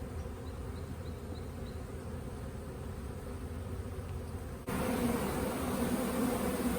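A caught honeybee swarm fanning and buzzing around three frames of comb in a hive, a steady dense hum close to the microphone that grows louder partway through.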